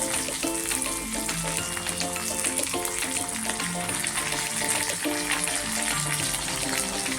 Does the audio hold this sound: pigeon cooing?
no